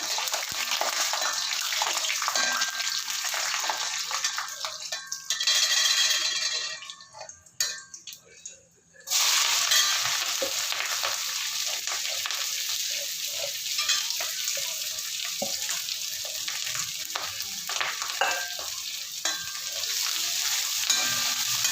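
Steady, loud sizzling of onions, chilies, ginger and curry leaves sautéing in a hot pan with scraping and stirring, pausing briefly partway before the hiss resumes.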